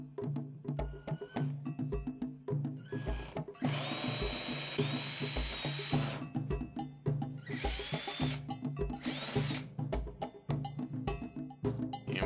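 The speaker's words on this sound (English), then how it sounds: "now we're drilling one in the same place on the other side" A plastic flight-simulator yoke, a CH Products unit, being drilled with a 1/8 inch bit: whining drill bursts with rising pitch alternate with short pauses and small handling knocks, close and clear.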